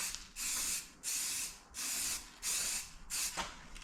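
A small spray can of primer coats bare metal on a Mk3 Cavalier 2.0 16v in five short, loud hissing bursts of about half a second each, separated by brief pauses.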